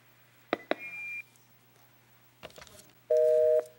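A telephone line after a call drops out: a short beep, then a steady, loud electronic tone that holds for about half a second near the end. The line is otherwise quiet, with no one talking.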